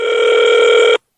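A steady electronic telephone tone sounds for about a second, loud and unbroken, then cuts off abruptly into silence.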